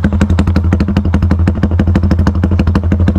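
A motorcycle engine runs loud and close after starting, with a fast, even, pulsing exhaust beat and light mechanical clatter throughout, and no talk over it.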